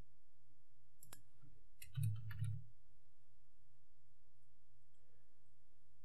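Computer mouse clicking, a few quick faint clicks close by in a quiet room, with a short cluster of taps near the middle.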